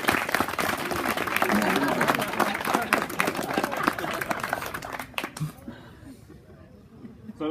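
Audience applause for cadets at a West Point ceremony, a dense sustained clapping that swells loudly then tapers off after about five seconds into a quieter room with scattered sounds.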